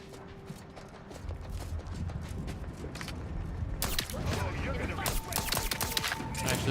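A charged gun fires in The Outer Worlds 2, one sudden loud blast cutting through steady game ambience partway through, followed by a busy, noisy tail of in-game sounds.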